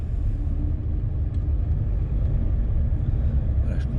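A car accelerating in second gear through city streets, its engine a steady low rumble that stays close and constant, with no break in the drone.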